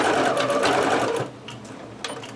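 Home sewing machine running a quick burst of stitching at the end of a seam, steady and close for about a second before it stops, followed by a few soft handling clicks.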